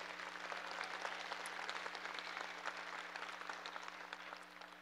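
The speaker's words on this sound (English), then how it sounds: "Please give them one more round of applause." Quiet, steady applause from a crowd at a junior Brown Swiss cattle show, welcoming heifer exhibitors, with a constant low hum underneath and no voices.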